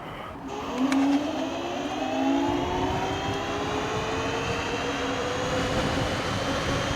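A smooth electric whine rises steadily in pitch as a Dualtron Thunder electric scooter speeds up, with constant wind and road noise throughout.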